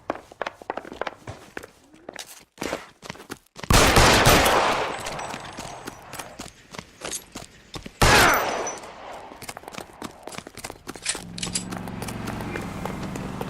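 Gunshots ring out in L.A. Noire, two sharp loud blasts several seconds apart amid scuffling footsteps and movement noise.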